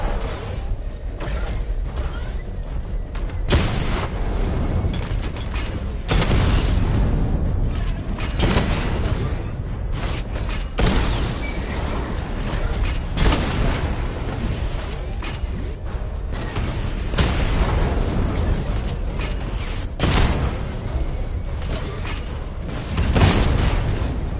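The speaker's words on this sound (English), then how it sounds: "Charge up missile barrage to level 2 and destroy 4 active targets to complete diagnostic test" A video game missile barrage unleashes a long series of heavy booming explosions, loud blasts recurring every few seconds over a continuous mechanical rumble, with no talking.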